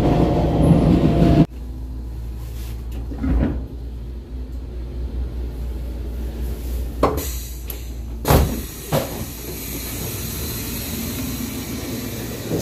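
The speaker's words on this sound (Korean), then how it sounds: "이제 이 열차에 발차 영상을 찍도록 하겠습니다." A Nuriro passenger train departs a station, rumbling steadily with low mechanical hum and occasional sharp clanks and knocks, building slightly as it moves off, with no talking.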